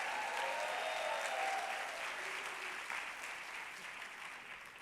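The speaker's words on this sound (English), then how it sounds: "Please, another round of applause for Brooklyn's own Attorney General Letitia James." Applause for Attorney General Letitia James at a Brooklyn State of the Borough event rolls through a large hall, a broad sustained clapping that slowly tapers off toward the end.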